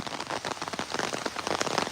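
Steady rain patters densely on surfaces nearby, a brief, even hiss of countless drops with no voices.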